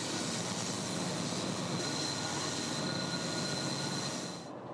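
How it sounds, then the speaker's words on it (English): Train wheels grind and hiss on curved track behind diesel locomotives, a loud, continuous wash of metallic noise with a faint high squeal running through it, fading slightly at the end. "here in the real world, you can see the train bending around those curves"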